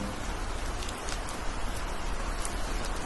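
Light drizzle falls steadily, a soft even hiss of fine raindrops pattering on surfaces with no other sounds.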